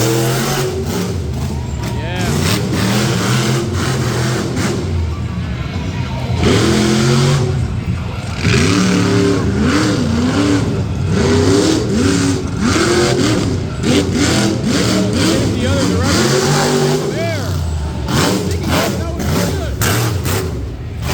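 A Kamikaze monster truck revs hard during a freestyle run at a Renegade Monster Trucks show in Frederick, MD, with its loud engine rising and falling continuously against crowd noise while an announcer talks over it.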